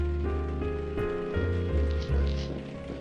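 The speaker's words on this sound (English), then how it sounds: "Ugh, stupid rain." Rain falls steadily in the adventure game Blackwell Epiphany, a continuous wash of patter heard alone at moderate loudness with a low hum of game ambience beneath.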